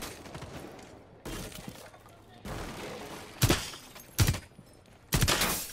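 Gunfire in Rainbow Six Siege, aimed at an enemy gadget: five sharp, loud bursts of shots come at uneven intervals over a low background murmur.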